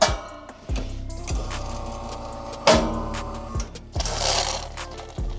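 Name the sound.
Bezzera Mitica espresso machine brewing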